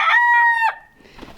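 Homestead chickens high in the Wyoming mountains, some molting, with one loud close rooster crow followed by softer low clucking from the flock.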